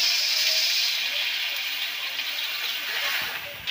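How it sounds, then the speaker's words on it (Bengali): Chopped vegetables frying in hot oil in a home kitchen pan, with minced ginger added, give a steady, close, bright sizzle that holds evenly throughout. "এগুলোকে একটু ভেজে নেওয়া হবে এবার।"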